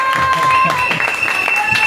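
Church congregation clapping and cheering in a brief burst of applause, loud and dense, with voices mixed into the crowd noise.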